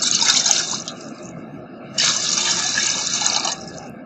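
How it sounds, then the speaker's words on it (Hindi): Two glasses of water pour into a metal cooking pot (degchi) set up for steaming chicken, a close, splashing gush that eases, then a second strong pour starting midway; no speech. "इसमें अब डालते हैं पानी।"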